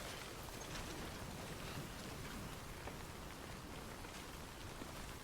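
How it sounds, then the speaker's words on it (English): Steady rain pours down in the video game Death Stranding, a dense, even hiss of falling drops that holds unbroken with no voices over it. "So I need to get out of this rain, I think."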